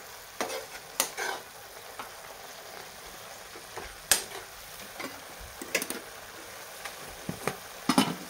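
Spinach bhaji cooking in a pan, a quiet steady sizzle broken by scattered sharp clicks and taps of stirring, close and faint with no talking.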